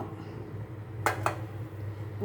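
Hilsa pieces being swirled with oil in a bowl while preparing mustard steamed hilsa, giving two light, close clinks about a fifth of a second apart over a quiet, steady background hum.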